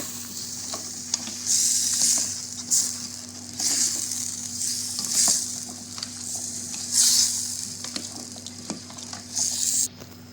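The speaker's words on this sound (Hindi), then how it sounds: "और इसको इन मसालों के साथ, प्याज के साथ, लहसुन अदरक और टमाटर के साथ थोड़ा सा भून लूँगी।" Onion, garlic, ginger, tomato and spices fry in a pan for potato and egg bhujia. A steady close sizzle runs throughout, broken by repeated bursts of stirring and scraping.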